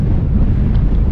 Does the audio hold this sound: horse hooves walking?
no